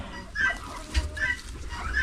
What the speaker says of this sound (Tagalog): May manok eh.